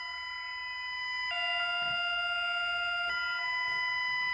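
An emergency alert system alarm for Bulgaria plays as a steady, loud, harmonic electronic tone that shifts pitch twice, sustained without pause and with no voices over it.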